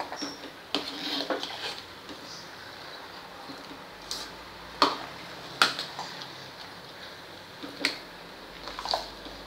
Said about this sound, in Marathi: पूर्ण असा खालून छान हलवत राहायचं आहे